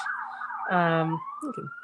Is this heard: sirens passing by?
yes